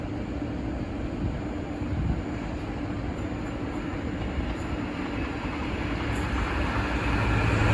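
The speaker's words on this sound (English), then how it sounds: "The next train to pass by is going to be a direct rail services Class 66 from Tilbury RCT to Daventry DRS Tesco" A Direct Rail Services Class 66 diesel freight train from Tilbury to Daventry rumbles past steadily, a continuous heavy roar and low drone of engine and wagons filling the whole stretch at moderate distance.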